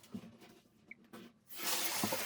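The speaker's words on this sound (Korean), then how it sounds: "물이 잘 나오나 틀어보겠습니다." After some quiet fumbling and knocks, water bursts on with a loud, steady hissing spray as a newly built shower in a bathroom starts to run nearby.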